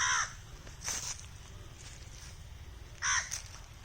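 A crow caws in a village garden at Nagla, Uttar Pradesh, with one short call at the start, another near the middle and a loud final caw, each close and clear over a quiet outdoor background.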